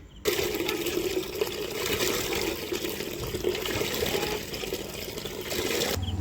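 At night, a hand pump sends water gushing into a container, making a steady close splashing rush that runs almost unbroken for several seconds, with no talking.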